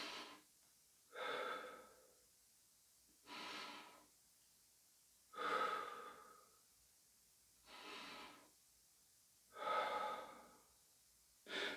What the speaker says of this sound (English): keep your stomach taut, so don't relax your stomach, and just try breathing